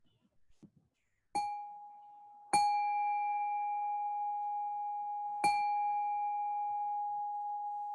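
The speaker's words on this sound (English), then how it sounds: "I'm not sure what the gong may have sounded like to you" Three single strikes of a gong during a meditation session, each with a sharp attack and a long, clear ringing tone that hangs on between hits, heard alone in a quiet room.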